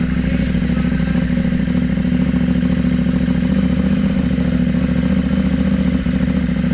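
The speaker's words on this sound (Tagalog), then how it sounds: "Lakas ng tambucho." A KTM 790 Duke motorcycle exhaust idles loudly and steadily up close, a deep continuous rumble with faint mechanical clatter throughout and no voices.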